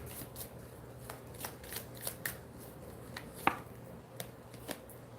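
A deck of angel cards being shuffled, soft repeated riffling and flicking strokes at close range, quiet against a low background hum, with no talking.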